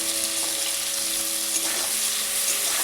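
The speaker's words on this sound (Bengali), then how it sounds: "বেগুনগুলো নেড়ে দিচ্ছি" Eggplant pieces fry in oil in a pan, being prepared for a hilsa fish curry, giving off a steady, dense sizzle that continues close and even throughout with no talking.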